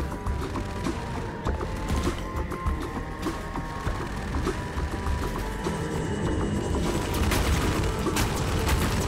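Rapid gunfire and clattering mechanical weapon noise from Half-Life 2: MMod while fighting antlions and drop ships, loud and sustained with sharp repeated cracks over a busy rumbling background.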